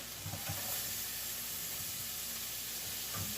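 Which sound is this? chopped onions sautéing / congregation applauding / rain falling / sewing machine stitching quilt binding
chopped onions sautéing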